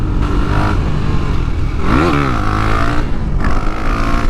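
KTM Duke 390 motorcycle revving hard during a wheelie, a loud close engine drone with a sharp rising and falling rev in the middle, no talk.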